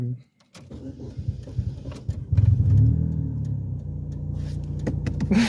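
A manual-transmission car's engine revs up hard in the mid range and settles into a steady drone, close by, with a driver and passenger talking quietly in the cabin.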